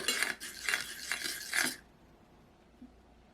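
A spoon stirs tomato sauce with vegetables, a little water and salt or seasoning in a bowl, making a quick run of close clinks and scrapes for under two seconds before it goes quiet.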